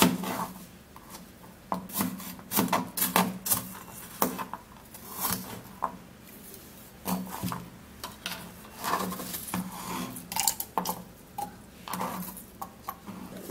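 A knife slices through a washed apple, giving repeated crisp cuts and rubbing scrapes in an irregular rhythm, close and moderately loud with no talk.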